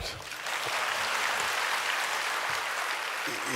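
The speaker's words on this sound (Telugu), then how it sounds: "చప్పట్లు కొట్టచ్చు పర్లేదు." Audience applause at a Jana Sena party political rally, a steady, dense wash of clapping from a large crowd that holds loud and even throughout.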